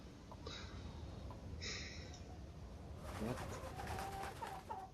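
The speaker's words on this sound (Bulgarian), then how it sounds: "Сладка птичка." A bird coos softly in the Dark Tales The Black Cat video game, with a few short calls early on over low background ambience, then a busier stretch of faint sounds toward the end.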